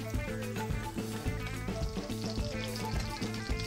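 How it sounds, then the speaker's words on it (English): Butter melts in a hot pan for a herb butter sauce, giving a continuous soft sizzle and crackle that stays even and close with no talk over it. "Add your butter, wait until it's fully melted"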